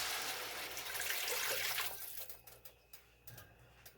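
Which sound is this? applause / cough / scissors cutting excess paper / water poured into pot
water poured into pot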